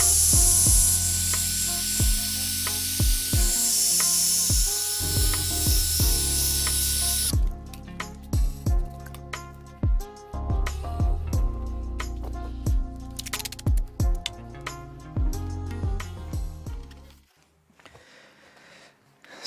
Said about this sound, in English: I'm going to up the speed though on the drill